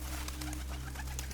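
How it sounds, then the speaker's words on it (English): Pigeon cooing in a farm-animal setting, a soft low steady coo with faint bird chatter above, heard alone at moderate level. "pigeon"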